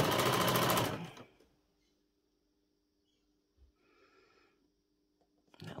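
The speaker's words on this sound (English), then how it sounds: "So you're just sewing close to the edge" A sewing machine stitches the hem of a doll's dressing gown in one short, loud, rapid burst, close by, followed by near silence with faint handling noises.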